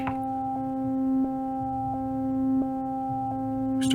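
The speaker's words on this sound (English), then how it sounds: "we'll start to hear the square sound coming in." A Behringer Crave synthesizer holding a steady square-wave tone, with a soft pulse repeating roughly every two-thirds of a second, clean and alone without any voice.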